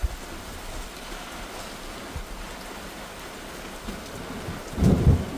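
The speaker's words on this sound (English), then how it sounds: "Oh, it's just raining." Steady rain pours outside during a monsoon thunderstorm, a constant close wash of drops hitting surfaces, with a louder gust or heavier burst near the end.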